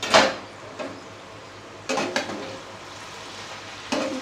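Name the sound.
potato, onion and tomato frying in a pan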